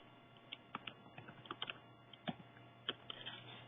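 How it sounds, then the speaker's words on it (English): Fingers tap out a short word on a computer keyboard during Excel data entry, a quick run of distinct clicks close up with brief pauses between keystrokes. "In cell A1, type January"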